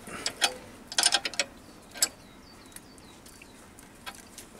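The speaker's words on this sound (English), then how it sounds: "the drawbar screws right into the stop, or the end of the thread in the taper. And then just tighten that one up" A drawbar being tightened on a Myford ML7 lathe gives a cluster of close metallic clicks and ratcheting ticks, then sparse scattered taps over a faint background hiss, with no voices.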